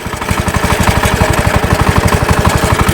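A motoblock-based mini tractor's small engine runs with the clutch engaged, a loud, close, rapid steady chugging throb with no talking.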